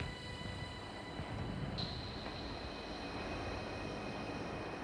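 A train led by two diesel locomotives rumbles along a mountain line in France, a faint, steady drone of engine and rolling wheels with a thin high whine, heard from inside with no voices.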